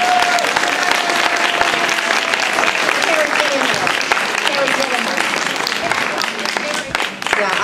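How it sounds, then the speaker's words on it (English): A crowd at a charity cycling ride event gives the organisers a sustained round of applause, loud and dense clapping throughout, with a voice briefly audible under it. "They need a resounding, they need a huge round of applause."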